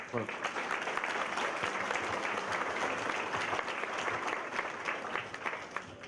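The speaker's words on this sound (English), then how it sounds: "A round of applause." Audience applause at a FlexiBus celebration day, a steady, dense roar of many hands clapping that holds for the whole stretch, with some voices mixed in underneath.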